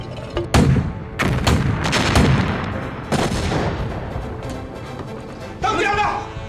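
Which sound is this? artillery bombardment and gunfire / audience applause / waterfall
artillery bombardment and gunfire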